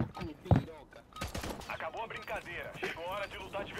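Video game weapon fired by scrolling the mouse wheel, a few quick close shots at the start under someone talking throughout.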